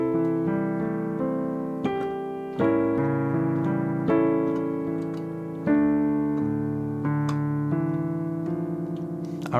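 Piano plays the second line of a song as a tutorial, with sustained block chords changing every couple of seconds and a soft melody on top, loud and close with no talking.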